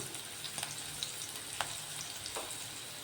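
Spices and a bay leaf sizzle in hot oil in a pan, a steady frying hiss broken by a few soft scrapes and clicks of stirring.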